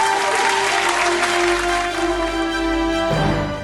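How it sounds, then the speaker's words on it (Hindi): Studio audience applause after a performance on a gospel singing competition show, a steady wash of clapping under sustained musical tones and a low hum, continuing evenly for a few seconds. "जोरदार तालियां हो जाए"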